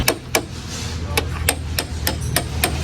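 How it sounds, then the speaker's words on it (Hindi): A hammer striking a metal strip on a Gypsy car, about nine sharp metallic blows at a steady rhythm, close and loud, with no talking. "भैया बोल रहे हैं हथौड़ा मार के कर देंगे इसे अंदर"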